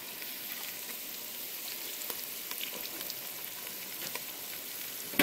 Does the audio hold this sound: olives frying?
yes